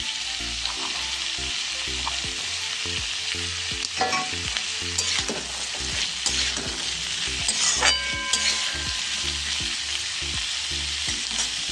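Bottle gourd and vegetables sizzle loudly in a hot pan as a spatula scrapes and stirs them in a steady rhythm, with sharp clinks of utensil on metal and no talking.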